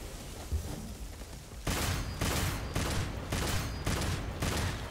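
In Devil May Cry 5, after a brief quiet stretch, a rapid series of five or six loud, blasting charged shots fires in steady rhythm, each a broad burst of noise.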